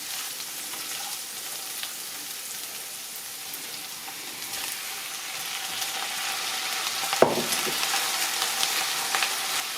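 Onions for a Lancashire hotpot soften in a pan, giving a soft, steady sizzle that carries on through the whole stretch, with one brief knock near the end and no voices.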